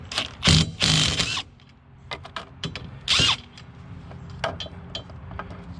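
A Ridgid impact wrench spins off lug nuts on a Honda Civic wheel in several close, loud bursts of rapid hammering, with shorter quieter whirs and clicks between them.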